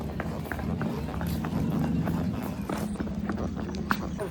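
Horse hooves clip-clop in a steady run of hits during a horse ride from Darjeeling's Chowrasta, sounding close over a dense bed of crowd and street noise.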